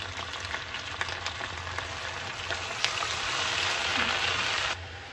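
Grated onion fries in hot oil for papaya kofta, a steady close frying hiss that swells slightly midway, with a few sharp crackles and light stirring, no speech.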